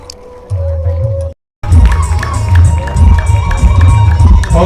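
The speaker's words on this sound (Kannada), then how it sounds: "ಜೋರಾದ ಚಪ್ಪಾಳೆ ಮೂಲಕ ಅವರನ್ನು ಅಭಿನಂದಿಸಬೇಕಂತ ಹೇಳಿ ವಿನಂತಿಯನ್ನು ಮಾಡ್ಕೊಳ್ತಾ ಇದ್ದೇವೆ" An audience at a Karnataka state government employees' association event bursts into crowd noise and clapping, a loud dense wash that drops out briefly and then resumes, with voices mixed in.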